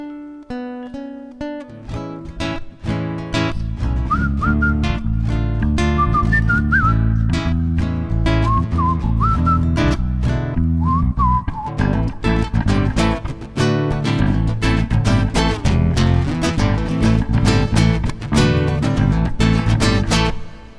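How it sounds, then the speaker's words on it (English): An ice cream van chime plays a mechanical melody, loud and continuous, ringing out as the van approaches through a misty street. "you can hear the sound of two ice cream vans approaching"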